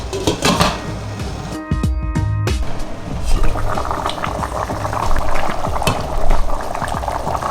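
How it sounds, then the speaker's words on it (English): A covered pot of water with a diced beef base comes to a boil for fonio (acha), giving a steady, close bubbling and simmering hiss with brief lid or pot clatter near the start. "I'm going to cover our base and let it come to a boil"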